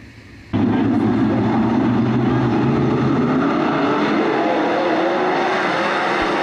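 Sprint cars at Attica Raceway Park roar to life for the start of a heat race, a sudden dense engine roar bursting in after a quieter moment and holding loud and steady throughout.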